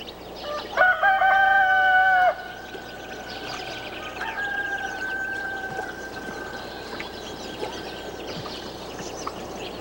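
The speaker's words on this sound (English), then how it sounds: "Dwindling in numbers in the western Mediterranean, the green-backed gallinules rely on Ichkeul for their survival." A green-backed gallinule calls from the Ichkeul wetland reeds, a loud, nasal, drawn-out cry followed by fainter, wavering calls over a steady background hum, with no voices.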